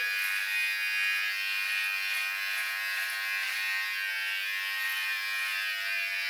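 An electric hair clipper from a budget 6-in-1 grooming kit trims hair, giving a steady, close, high-pitched motor buzz that holds even and unbroken throughout with no voices.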